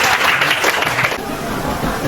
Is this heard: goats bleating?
no